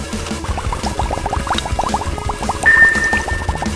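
Vinegar poured into a homemade paint-coloured volcano sets off a rapid stream of bubbly pops and gurgles, loud and close, with a brief whistling squeak near the end and no talking.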